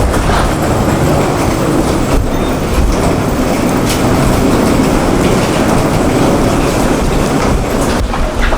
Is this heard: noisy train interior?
yes